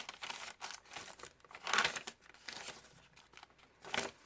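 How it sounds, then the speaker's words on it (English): Crisp coffee-dyed paper crinkling and rustling in short bursts as sheets are handled close up, with a louder crackle midway and another near the end. "And this paper, I just love the sound of it when it's coffee dyed."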